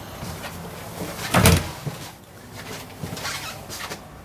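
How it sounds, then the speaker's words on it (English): A solid interior bedroom door in a 2017 Forest River Vibe Extreme Lite travel trailer swings and latches, giving one loud close thump mid-clip, then softer handling knocks, heard alone with no talk. "And we've got a solid bedroom door there."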